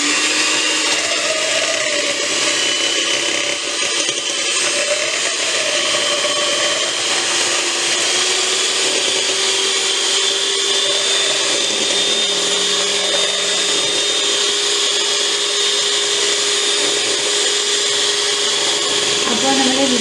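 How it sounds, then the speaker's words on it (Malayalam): A hand blender whipping cream for cold coffee with ice cream, a loud, steady high-pitched motor whir running continuously and close up, with small shifts in pitch as it works. "നമുക്കൊരു ഹാൻഡ് ബ്ലെൻഡർ യൂസ് ചെയ്തിട്ട് ഇത് നല്ല ക്രീം ഫോമിൽ ആക്കിയെടുക്കാം"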